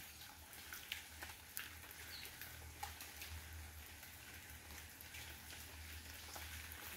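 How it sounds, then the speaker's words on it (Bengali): Rain falling on banana trees in rural Bangladesh makes a steady soft patter with scattered sharper drop ticks, under a low outdoor rumble. "কলা গাছে বৃষ্টি পড়ছে।"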